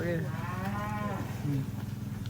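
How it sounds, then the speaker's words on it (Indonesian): A qurban cow on a livestock farm gives one long, loud, close moo that bends down in pitch and fades, over a steady low hum, with no talking. "Sapi ini muter-muter."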